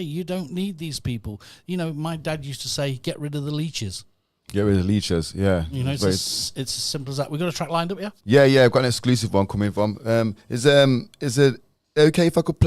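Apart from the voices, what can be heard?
No everyday noise stands out behind the speech.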